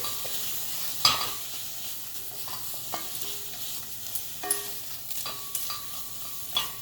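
Onions sauté in a dry pan without oil with a soft steady sizzle, broken by scattered clinks and scrapes of stirring that are near and fairly quiet.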